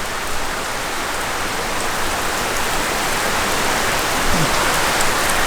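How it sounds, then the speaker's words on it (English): Heavy rain pours steadily in a dense, unbroken downpour on a road trip in Queensland, loud and continuous throughout with no voices. "this is just a downpour"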